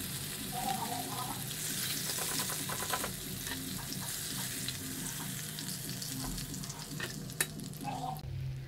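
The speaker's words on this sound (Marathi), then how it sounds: "हे जे बांगडे उरलेत आता ते सुद्धा मी असेच मस्तपैकी फ्राय करून घेते" Bangda mackerel fish frying in a pan gives a steady, close sizzle throughout, with occasional stirring and utensil clinks.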